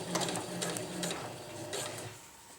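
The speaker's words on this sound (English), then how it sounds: "My machine right here, I have a Husqvarna Viking Emerald 118, that's my machine." A Husqvarna Viking Emerald 118 sewing machine stitches through a tarp ridgeline, a close, rapid mechanical chatter of needle strokes in a steady rhythm that pauses briefly and resumes. No voices are heard.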